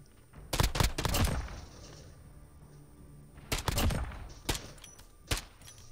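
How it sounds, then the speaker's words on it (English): Gunfire during a video game gunfight in a duo tournament, with two sharp rapid bursts of shots, then a lull, then more bursts and a couple of single cracks, loud and close. "Yeah, I was in a gunfight."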